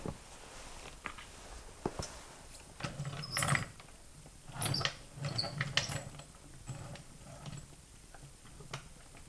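A car jack is set under the jacking point of a Ferrari F430, giving faint scattered metallic clanks and ratcheting clicks at close range, with no talking.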